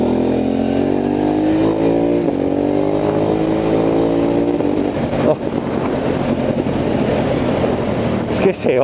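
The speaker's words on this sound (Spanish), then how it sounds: "Esa motocicleta se va" A KTM Duke 990 motorcycle engine roars loudly with a drawn-out tone that slowly sinks in pitch, then turns rougher and more broken, heavily buffeted by wind noise across the microphone.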